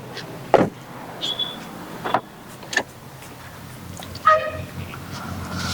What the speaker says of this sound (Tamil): power window 2 window, front 2 power window வந்துருங்க